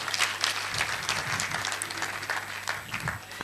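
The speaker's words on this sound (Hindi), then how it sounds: "जोरदार तालियां बजा देना।" Audience applause at an annual national council convention in Aligarh, Uttar Pradesh: a dense, steady patter of many hands clapping for about three seconds, moderately loud and filling the hall.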